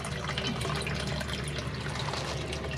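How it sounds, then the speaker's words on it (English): A pump circulating water in a garden pond, producing a steady, even trickle and splash of falling water that continues unbroken with no voices. "I've got a pump in. It pumps water. Water goes through."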